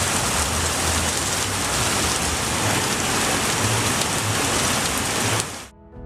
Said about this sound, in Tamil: இலங்கை தீவில் பரவலாக கனமழை பெய்து வருகிறது